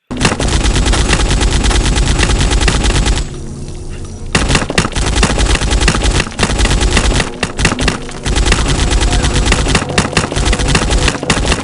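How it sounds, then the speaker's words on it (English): Turret gunfire in a zombie video game, loud rapid automatic bursts that keep hammering, stop for about a second, then resume and continue to the end. "And also the turret sounds like ass."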